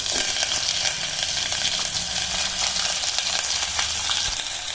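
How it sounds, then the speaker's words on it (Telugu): Onion, curry leaves and tomato fry in a pan for a bottle gourd curry, giving a loud continuous sizzle with scattered clinks of a spoon against the pan, no one talking. "చుట్టుపక్కలాడిన తర్వాత ఆనియన్, కరివేపాకు వేసుకోవాలి. టమోటా కూడా వేసేయాలి."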